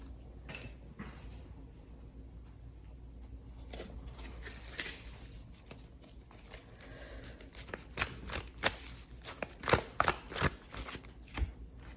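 A tarot deck is shuffled by hand, with soft scattered rustles and a cluster of louder card slaps and riffles toward the end, close and without speech.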